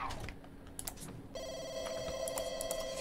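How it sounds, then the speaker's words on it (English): A telephone rings in The Sims 2, its steady electronic tone starting partway through and continuing over quiet game sounds and a few clicks. "answer the phone"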